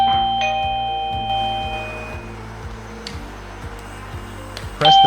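A panic alarm plays its original electronic chime: a clear, repeating two-tone doorbell-like ding-dong with sustained ringing tones, fairly loud and close, with no talking over it.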